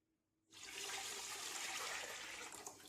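Water pours steadily into a cooking pot for mutton mandi, a continuous rushing splash that starts abruptly after a brief silence and holds at an even level, close and alone with no talking.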